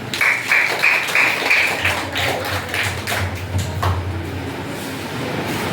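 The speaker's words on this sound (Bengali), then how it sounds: "হাততালি দাও।" Applause for a school quiz prize winner at a National Space Day event in Mayapur, a crowd clapping steadily and loudly for several seconds amid a noisy room, with a tonal hum and some background sound mixed in.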